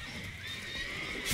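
Horses whinny in The Witcher 3, a rising neigh layered over game ambience, fairly faint, with a brief burst of noise at the very end.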